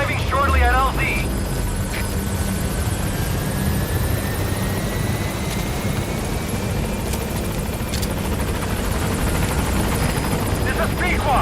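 The Pequod helicopter from Metal Gear Solid V arriving at a landing zone: a loud, steady rotor drone and engine whine filling the whole stretch, with brief radio-style voice chatter at the start and end.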